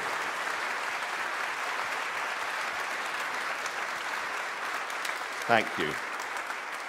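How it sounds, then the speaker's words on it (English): An audience applauds steadily at a partnership gathering in Bradford, a broad even wash of many hands kept at moderate level throughout, with a brief spoken thanks near the end. "May we give them a round of applause."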